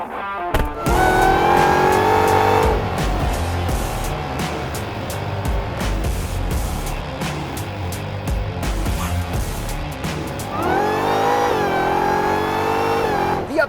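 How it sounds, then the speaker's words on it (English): A 2024 Ford F-150 Raptor R pickup launches hard without launch control, its engine roaring loud and close as it revs through the gears, with a brief tire squeal, the pitch climbing, dropping at a shift, then climbing again. "The updated 2024 Ford F-150 Raptor R without launch control."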